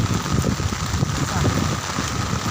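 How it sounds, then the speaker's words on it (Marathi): A dense, steady hiss of heavy rain pours down, with a constant wash of noise and some patter underneath. "आमच्याकडे पाऊस कसा चालू आहे बघा."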